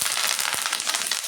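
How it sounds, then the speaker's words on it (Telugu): Curry leaves frying in hot oil in a pan, a steady, bright crackling sizzle with small pops throughout, close and fairly loud with no talking. "స్లోగా క్రిస్పీగా ఫ్రై చేసుకోవాలి"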